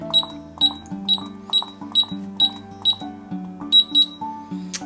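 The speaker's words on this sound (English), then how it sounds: "A double beep sounds and the LED turns off" Sharp high electronic beeps from a 700 Basic keypad repeat in pairs at a steady rhythm, close and clear, over a low sustained hum.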